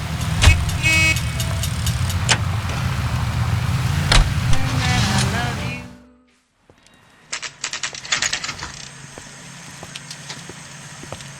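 A car driving in the video game L.A. Noire gives a loud, steady engine drone that cuts to near silence, followed by quieter engine noise with scattered clicks.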